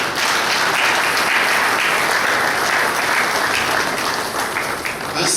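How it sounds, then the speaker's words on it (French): Sustained applause fills the room from an assembled audience welcoming guests at an official evening event in a Kinshasa hotel, a steady dense clapping that holds loud for several seconds before easing slightly. "nous demandons à toute l'Assemblée d'acclamer pour tous les invités"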